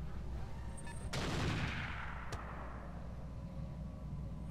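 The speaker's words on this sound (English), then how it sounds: "Some kind of artillery piece?" Artillery airstrike fire in the Roguetech mech combat game: one sharp, loud blast followed by a long rolling rumble that fades, then a second fainter crack, all over steady low battle noise.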